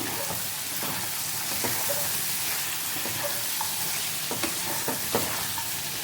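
Chicken and fried onions being stirred in a pan for chicken biryani, with steady frying sizzle and hiss under repeated scraping strokes of a spoon, close and continuous.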